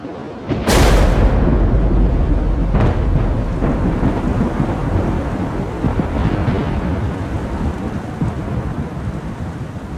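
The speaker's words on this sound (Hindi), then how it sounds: "अचानक जोरदार बादल गरजना शुरू हुए" A sharp, loud thunderclap cracks early during a mountain thunderstorm on the Rudranath trek, then rolls into a long rumbling roar with steady heavy rain pouring throughout.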